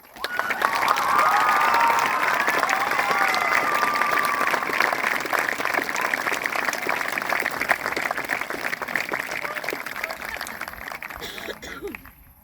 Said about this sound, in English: Could Mr. Shotbolt, Miss Bailey, Miss Foley, Miss Romano, and Miss Seeley stand to accept a round of applause?